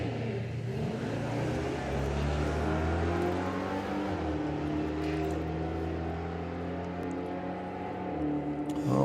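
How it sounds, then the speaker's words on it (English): A drag racing engine idles loudly at the start line of a drag racing event, holding a deep, steady, rumbling drone with slight rises and dips as the throttle is lightly feathered. "you can hear he's just feathering the throttle a little bit now"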